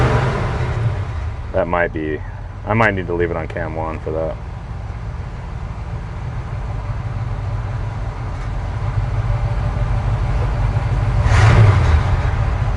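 A 1972 Chevy C20 utility truck's small-cam engine with fresh EFI idles with a lumpy rumble as someone talks over it, then the throttle is whacked and it revs sharply before settling.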